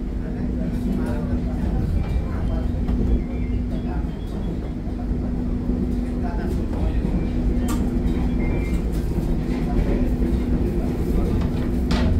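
Interior of the Fajar Utama Solo economy passenger train running in Indonesia, with a steady loud rumble of wheels on track and a constant droning hum throughout, faint rattles and clicks on top.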